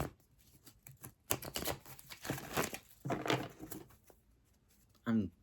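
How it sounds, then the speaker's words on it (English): Tarot cards being shuffled by hand, several quick papery riffles and crinkling bursts of uneven length, close up, with a person talking in between. "And so I'm just going to give these cards a couple shuffles."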